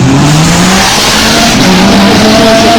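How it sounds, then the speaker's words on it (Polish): A rally car engine roars loudly and close at a rally in Korczyna, with rising and falling revs as the car accelerates past. "tego ryku silnika"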